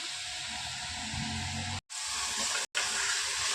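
Mutton sautés in a pan with a steady, loud hiss, broken by two brief moments of silence. The sizzle is close and continuous, with no talking.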